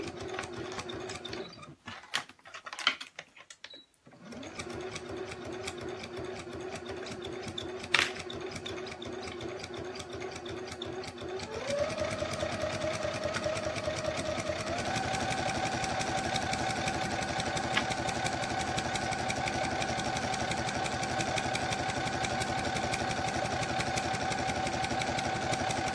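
A sewing machine runs steadily on a tote bag, reversing to back-stitch, its fast rhythmic mechanical chatter continuous and close, picking up speed partway through with a brief pause near the start.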